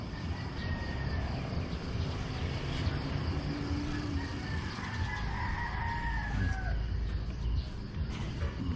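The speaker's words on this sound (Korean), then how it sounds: "닭들은 어디나 있는 것 같아요" Roosters crowing at a hostel in Moalboal, Cebu, Philippines, with several drawn-out calls rising over steady outdoor ambience and a faint engine or aircraft hum, no talk.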